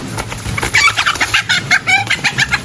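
A chicken clucks close by in a quick, rhythmic run of sharp repeated calls, loud and continuous over a light background.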